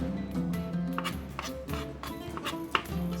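A knife chopping onion on a board, a quick series of close, soft knocks over low background hum, with no talking.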